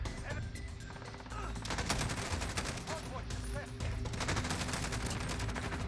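Rapid automatic gunfire in the Modern Warfare video game, dense bursts of loud cracking shots that continue throughout, with a player talking over them.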